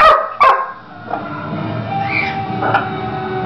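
A dog barks close by, two sharp barks at the start, followed by softer yips and whimpers in a quieter outdoor setting.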